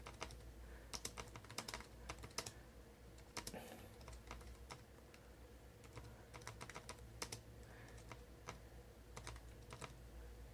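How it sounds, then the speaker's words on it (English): Steady typing on a HooToo Bluetooth 3.0 keyboard, quick clicking keystrokes in irregular bursts, close by and fairly quiet, no voices. "So if I start typing,"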